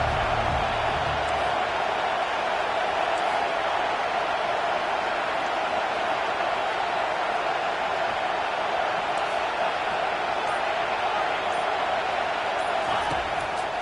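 A dense, constant roar from a home crowd at a football game fills a stadium as the defense faces third down, loud and unbroken throughout.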